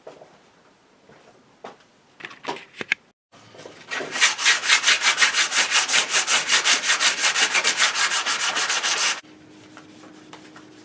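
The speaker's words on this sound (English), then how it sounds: "let's just start sanding" Steady back-and-forth sanding of hickory wood, a long run of rhythmic, even rasping strokes after a few scattered knocks, then it stops abruptly.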